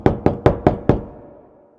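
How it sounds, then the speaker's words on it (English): Five firm knocks on a wooden door, evenly spaced and close, each sharp rap ringing briefly before a short fade into silence. "Thumbelina knocked on the door"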